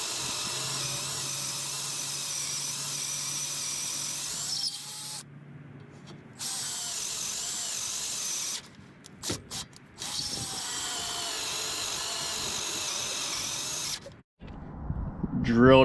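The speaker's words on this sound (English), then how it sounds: "So without further ado, let's start reaming." Power drill reaming out a hole on a Jeep XJ build, a steady high whirring run that cuts off, restarts, stutters through short bursts and stops near the end, with voices and clatter breaking in.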